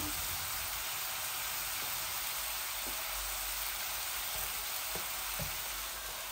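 Dried ribbonfish and stem greens sizzle steadily in a hot pan for a Bengali dish, an even, continuous frying hiss with a few faint stirring knocks and no talking.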